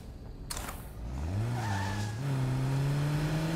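A car driving in State of Decay 2, its engine rising in pitch as it accelerates, then holding a steady drone, with a brief tonal squeal partway through.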